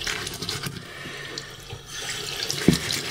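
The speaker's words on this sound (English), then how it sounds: "So rinse it off, clean it off." Running tap water splashes over boots being rinsed of foam shoe cleaner, a loud, close, continuous gush with shifting splashes and a brief knock near the end, no speech.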